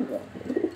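A pair of racing Homer pigeons coo in soft, low repeated notes, close by and brief.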